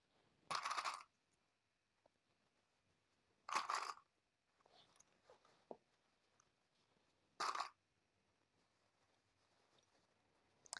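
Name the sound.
clips attached to hold folded bag binding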